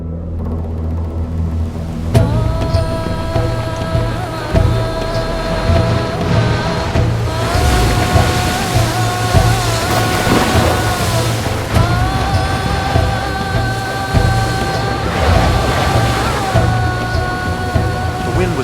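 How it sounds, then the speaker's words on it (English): Loud, constant roar of windstorm gusts and churning waves on a lake with a steady low engine drone and some tonal hum, buffeting throughout without any talking. "A huge windstorm came up out of nowhere."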